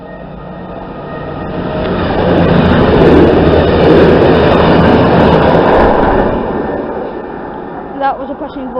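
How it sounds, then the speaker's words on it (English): A Class 220 Voyager train, unit 220018, passes a station, its broad rumbling roar swelling to a loud peak at mid-pass and then fading away, with a brief clatter near the end. "That was a passing Voyager service with 220018 on it."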